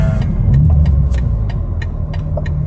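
BMW G87 M2 fitted with an AWE SwitchPath exhaust accelerating along an on-ramp, a loud, steady low engine drone from inside the car with faint ticking on top.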